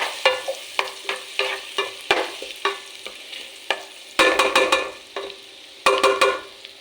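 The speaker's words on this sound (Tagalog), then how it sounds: "igigisa muna natin sila sa butter. Ayan, lagay tayo ng ating bawang." Garlic sautés in butter for squid spaghetti, a bright sizzle broken by repeated scraping and clinking as a spoon stirs it around the pan, close up with no talking.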